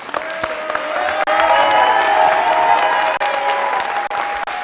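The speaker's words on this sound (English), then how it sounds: "Audience, keep the applause going for these heroes" Sustained audience applause with cheering at a social work summit, honoring cohort members; loud, dense clapping with whoops and crowd voices throughout, steady from start to finish.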